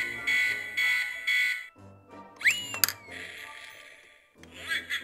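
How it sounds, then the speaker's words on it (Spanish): Electronic sound effects from a toy zombie surprise egg, a series of shrill beeping, warbling tones with repeated bursts and a rising whoop, moderately loud and close. "Si pulsamos en la parte de arriba, hace sonidos."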